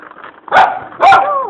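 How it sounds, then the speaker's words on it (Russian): A puppy on a road in Goa, India, barks twice in quick succession, loud and close, the sharp yips separated by a brief pause. "Ну что ты на нас гавкаешь?"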